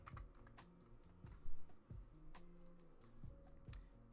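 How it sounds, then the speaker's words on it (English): Light, quick keystrokes on a computer keyboard typing the words control panel, faint and close, with soft clicks scattered over a low background hum. "you're going to want to type in control panel"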